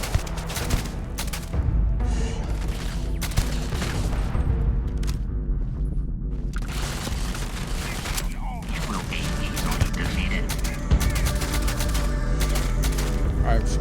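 Gunfire in the Starfield video game, with rapid shots and bursts running almost continuously under a dense mix of game sound, and a voice talking over the shooting.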